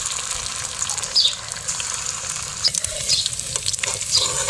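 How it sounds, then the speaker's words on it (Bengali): Grated papaya kofta balls dropped one by one into hot oil, a continuous close sizzle with bubbling and a few sharp spatters and scrapes over the top, no voices. "এবার আমি এক এক করে পেঁপের কোপ্তাগুলো ছেড়ে দেবো তেলে।"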